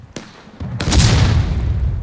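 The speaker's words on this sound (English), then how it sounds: "Both teams seem content to let their artilleries battle it out." Artillery cannons fire in War of Rights, a Civil War battle: a sharp distant crack, then a heavier boom that rumbles and lingers in the open field.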